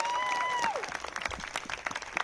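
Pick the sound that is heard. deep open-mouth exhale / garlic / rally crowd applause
rally crowd applause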